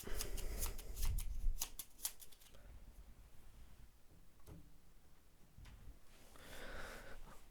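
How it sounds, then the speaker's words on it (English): Peddler's cards for the Merchants Cove board game being shuffled by hand: a quick burst of riffling and slapping card noise at the start, then quieter handling and faint shuffling in a calm room. "Gonna reshuffle the peddler's cards."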